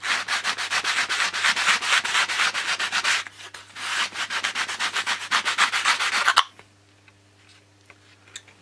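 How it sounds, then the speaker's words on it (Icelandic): A sanding block rubs back and forth across a model airplane wing in fast, regular strokes. The sanding is close and loud, runs in two bursts separated by a short pause, then stops, leaving faint room hum. "það er ágætt að láta pússikubbinn bara sitja ofan á vængnum og síðan nota annan endan á honum"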